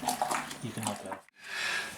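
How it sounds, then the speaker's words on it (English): Water pours into a home brew beer mixture of dissolved malt extract, a loud gushing splash that cuts off briefly and then resumes as a softer, steadier stream, with someone talking over the first part. "Now we're just adding the last of the water."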